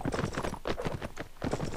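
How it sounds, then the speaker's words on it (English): A horse galloping in the Mount & Blade: Warband video game, steady rhythmic hoofbeats in repeating clusters, close and fairly loud, with no clear talk over them. "And there goes a horse."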